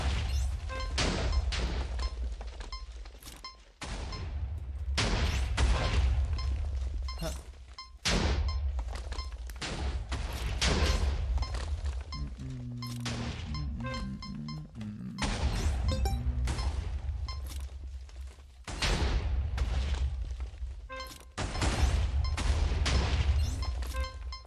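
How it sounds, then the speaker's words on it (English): Gunfire in the MCC Island elimination video game, delivered as bursts of heavy thudding shots and booms that repeat across the whole stretch in dense clusters with short gaps, loud and close. "They're shooting at me."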